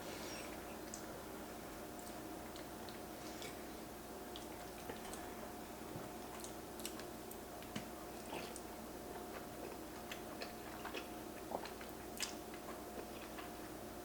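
Soft, close, wet chewing of mozzarella and warm corn and basil pesto caprese pasta with burrata, heard as faint irregular clicks and squishes over a quiet steady background hum.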